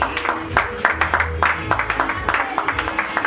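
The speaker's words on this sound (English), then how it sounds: "Round of applause, please." An audience at the launch of a girls' foundation claps in a quick, rhythmic beat, close and fairly loud, with faint tonal sound threaded through the clapping.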